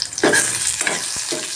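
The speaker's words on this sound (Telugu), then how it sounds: "ఆనియన్స్, టమాటా ముక్కలు వేసి ఫ్రై చేద్దాము." Onions and tomato pieces fry in a pan, a soft sizzle broken by a few scraping stirs of a spatula, close up with no talking.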